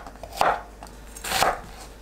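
A knife slicing zucchini into half-moon pieces on a cutting board, two distinct chopping thuds about a second apart, close and clear with no talking.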